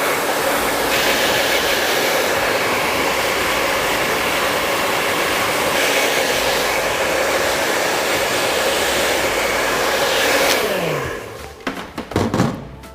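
Hair dryer blowing steadily and loudly at close range while drying a man's hair at the roots for lift during a haircut, running continuously before cutting off near the end.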